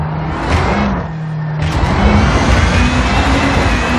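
Onboard a 2015 WRC rally car on a forest stage in Wales, the engine drones loud and steady with rising and falling revs, gear changes and gravel roar, close and continuous throughout.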